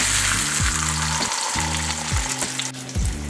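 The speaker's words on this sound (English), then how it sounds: "Start with a corn tortilla and dip it in your soup base. Now add to a well-oiled skillet." A corn tortilla dipped in birria soup base hits a well-oiled skillet and fries with a loud, close, crackling sizzle, broken by a few scraping stirs and shifts.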